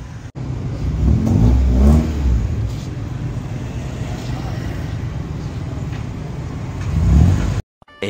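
A car engine revs while the car is moved into position at a wrap and wheel shop, loud, close bursts of revving that swell twice over a steady running hum, with a voice talking briefly in between.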